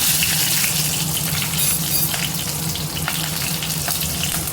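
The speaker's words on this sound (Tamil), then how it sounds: "எண்ணெய் காஞ்சிருச்சு. கடுகு ஜீரகம் தாளிச்சிக்கலாம்." Mustard seeds and cumin tempering in hot oil in a home kitchen pan, giving a steady close frying sizzle with scattered crackling pops throughout, no talking.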